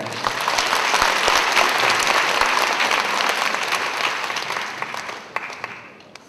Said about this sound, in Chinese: 我们掌声鼓励一下来